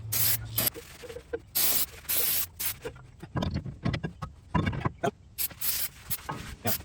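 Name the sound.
spraying brake cleaner on truck brake parts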